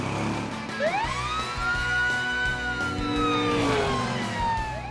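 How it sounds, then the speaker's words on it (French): A cartoon fire truck siren wails loudly and continuously, its tone sweeping up and falling back in long glides over a rumbling engine, with no talk. "Ça ressemble à une sirène de pompiers."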